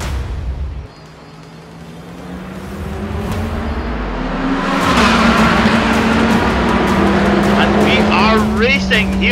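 Several race cars roar around Silverstone, engines droning and rising in pitch as they accelerate past, with a commentator talking over the continuous mechanical whine and a louder burst of passing engines toward the end.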